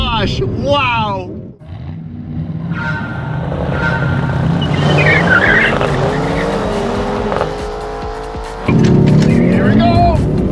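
Mercedes-AMG C63 models, including an E-Performance and a Black Series, accelerate hard in a drag race: loud, close engine roar rising through gear shifts, with a sharp shift near the end and excited talking over it.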